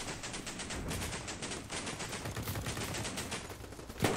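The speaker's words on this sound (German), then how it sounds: "Direkt wieder dieser Begrüßungs-Sniper-Schuss" Dense gunfire in the video game Battlebit Remastered, rapid shots crackling continuously, with a sharper single sniper rifle report standing out near the end.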